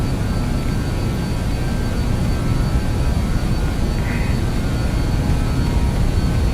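BAe 146-300 jet engines run at takeoff power in a flight simulator, a loud steady broadband roar with a constant whine, unbroken throughout and with no voices.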